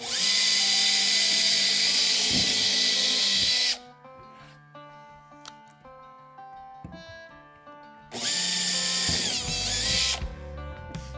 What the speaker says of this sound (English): then come back and drill them through